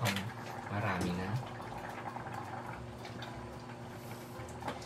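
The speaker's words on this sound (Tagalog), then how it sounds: "isusunod na natin ilagay ang ating suka" Vinegar poured into a pot of cooking paksiw na saluyot (jute leaves), a soft liquid splash and bubbling that stays steady and close for the whole stretch.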